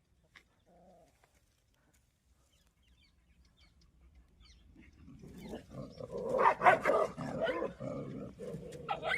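Quiet at first with a faint call, then rising yelps and whimpers build over the last few seconds, like a female dog and her puppies vocalizing close by.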